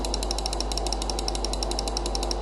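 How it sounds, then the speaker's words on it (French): Rapid, steady computer mouse right-clicks close to the microphone during Minecraft play, a dense run of sharp mechanical ticks lasting the whole stretch over a constant low hum. "Désolé si vous entendez fort les clics droits, c'est que le micro est juste à côté."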